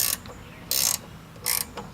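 A ratchet wrench clicks in three short bursts while tightening the blade bolt on a lawn mower, close up and crisp, with quiet gaps between strokes.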